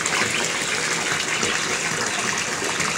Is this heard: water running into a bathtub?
yes